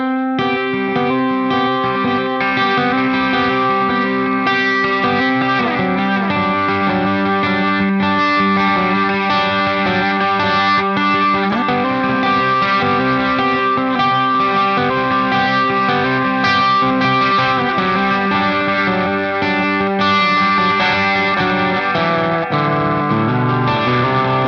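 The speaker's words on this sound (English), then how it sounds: "for those of you that want to hear just the delay by itself," An Ernie Ball Ambient Delay pedal on electric guitar with reverb turned down, chords and notes trailing off into steady repeating echoes, played loud and continuous with no talking.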